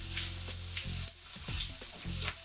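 Okonomiyaki sizzles steadily on a hot griddle as it is flipped, with a constant close frying hiss and some scraping and clanking of spatulas.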